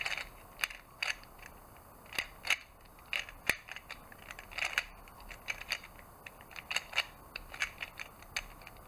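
A 2x2x2 Gear Cube puzzle is turned by hand, giving a series of crisp plastic clicks and ratcheting gear snaps in irregular bursts, close and fairly quiet, with no talking.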